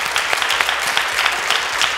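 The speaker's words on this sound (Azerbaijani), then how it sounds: "Biz onları ürəkdən alqışlayırıq." A studio audience applauds steadily throughout, a dense, loud wash of clapping at an Azerbaijani TV show with no voices over it.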